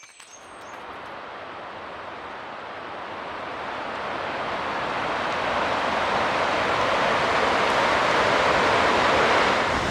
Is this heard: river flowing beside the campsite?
yes